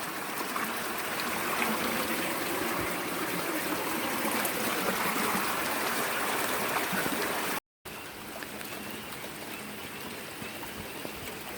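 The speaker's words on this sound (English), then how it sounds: "I went from ice on my heat pump to flood water." Floodwater flows steadily in a dense, continuous rush and trickle with no breaks in the sound, fairly quiet, with one brief dropout partway through.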